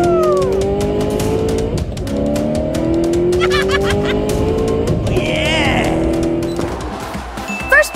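Toy race car styled as McQueen zooming around a play track, steady whirring motor and rolling noise with shifting pitch, near and loud, under continuous excited speech and background effects.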